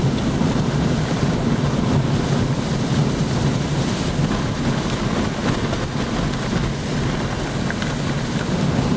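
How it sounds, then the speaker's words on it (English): Hurricane Irene batters the shore with crashing surf and hard gusts, a dense, continuous roar of waves and wind buffeting the microphone, loud and unbroken throughout. "Man, the waves."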